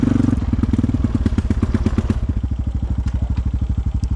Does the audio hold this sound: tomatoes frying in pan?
no